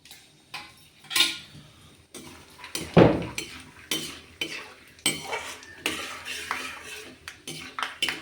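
Peanuts frying in hot oil for poha upma, stirred with a metal spoon: repeated close scrapes and clinks against the pan in an uneven rhythm over a light sizzle, no talking.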